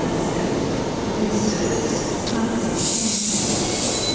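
A train departing on the Midland line near Bassendean, with a steady rumble of rolling wheels, the rising whine of traction motors and brief high squeals and tones, heard close and alone.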